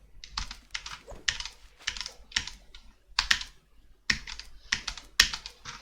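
Computer keyboard keys pressed in quick bursts while setting up Fortnite keybinds, a run of crisp clacking taps in clusters with short pauses between, close and clear with no talking.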